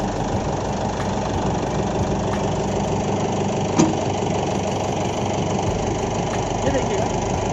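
A tractor engine runs steadily while its hydraulic lever lifts a mouldboard plough. A loud, continuous engine drone fills the whole stretch, with one brief knock partway through.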